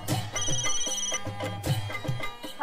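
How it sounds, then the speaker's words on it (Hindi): A telephone rings briefly in a scene from the Hindi TV sitcom TMKOC, a short electronic ring in two bursts over a steady low background. "अबू जी, गाँव से नाथिया का फोन है"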